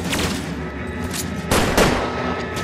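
Gunfire in the LA Noire detective game during a shootout, a dense crackling volley with a couple of sharper, louder reports near the end, close and heavy with no talk.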